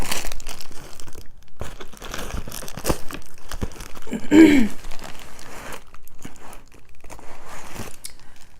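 A My Fashion Crate subscription box being opened: crinkling packaging, rustling and tearing for several seconds, close and fairly loud, with a brief spoken sound partway through.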